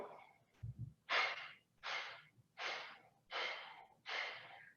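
Steady audible breaths from a person holding a yoga pose, five distinct airy exhalations evenly spaced about a second apart, close and fairly quiet, with a short low thump before them.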